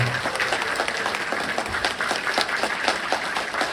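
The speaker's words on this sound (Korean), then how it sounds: "다시 한번 안철수 의원님께 뜨거운 박수 부탁드리겠습니다." At a People Power Party members' gathering and new year party in Gwangjin, a crowd applauds Ahn Cheol-soo with continuous, fairly even clapping of moderate loudness, individual claps flickering through the steady wash.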